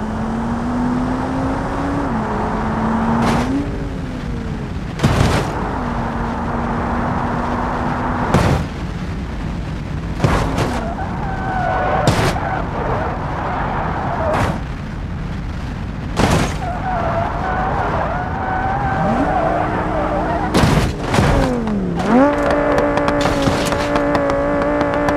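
In the BeamNG Drive video game, an Audi Q7 rolls down a dangerous downhill track. Its engine drones steadily, with pitch rising and falling, while several sharp impact bangs crash through at intervals.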